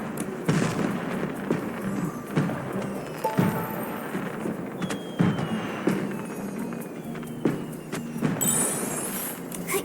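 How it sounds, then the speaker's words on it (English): Repeated firework pops and bursts, irregularly spaced, layered over a busy game soundscape in Infinity Nikki with occasional whistling streaks. "Safer, more stable, low-heat firework."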